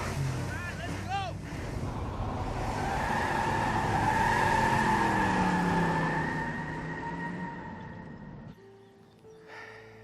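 Car driving off with a rising engine and tire hiss that swells loudly through the middle, then fades and cuts to quiet, with brief voices and other sounds at the start.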